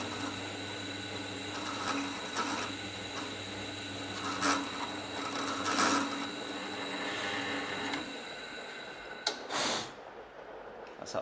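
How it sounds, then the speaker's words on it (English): Tapered reamer grinding steadily through a bolt hole during a DQ500 DCT billet centre install, a continuous close scraping hum with rhythmic surges as it turns, easing off near the end. "That's that first hole reamed."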